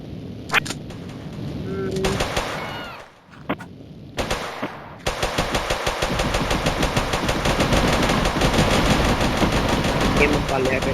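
Rapid gunfire in the mobile game Mini Militia, with bursts of automatic shots, a brief lull, then sustained loud firing that runs on continuously, a voice talking underneath.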